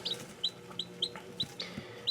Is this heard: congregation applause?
no